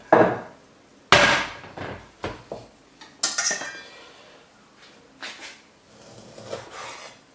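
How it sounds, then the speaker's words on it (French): A knife chops through a large rack of pork spare ribs on a board, a few sharp, close knocks and cracking cuts in quick succession with short pauses between them, no one talking. "Le travers étant trop grand. Voilà, donc je vais couper à peu près ici."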